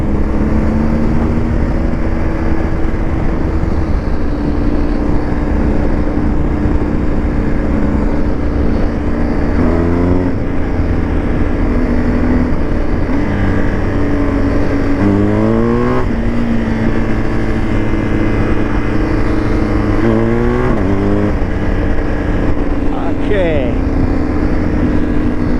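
A 2023 BMW R 1250 GS Adventure motorcycle engine drones steadily up close and revs up several times, with rising pitch sweeps between gears, while a rider talks over it throughout.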